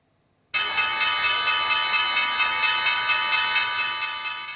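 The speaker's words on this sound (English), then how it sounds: "rang the opening bell on Wall Street today" The opening bell at the Wall Street stock exchange starts abruptly and rings loud and continuous, a rapid metallic trill that holds steady and fades slightly toward the end.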